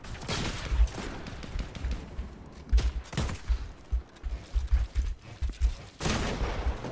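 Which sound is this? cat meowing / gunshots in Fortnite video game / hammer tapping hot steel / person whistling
gunshots in Fortnite video game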